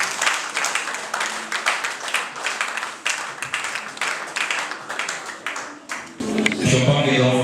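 Guests at an association event applaud and clap in a sustained, dense wash of hands, close and fairly loud, with voices and cheering rising over it near the end.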